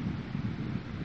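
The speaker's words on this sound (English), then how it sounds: "Yes, wind coming in." Wind buffeting the microphone at an outdoor flying spot, a low rumbling gusty roar with uneven pulses over about a second, close and fairly loud, with no voices.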